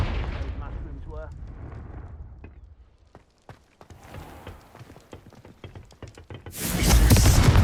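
A Confringo fire spell goes off in the video game Hogwarts Legacy: a voice speaks at the start, scattered sharp cracks follow, then a loud, sustained blast roars near the end.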